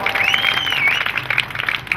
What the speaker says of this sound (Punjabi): ਤਾੜੀਆਂ ਲਾ ਦੋ ਦੱਬ ਕੇ